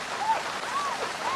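Steady rain in a scene from the TV show Lost, season 2 episode 13 "The Long Con": a continuous, fairly loud hiss of falling rain running unbroken through the moment.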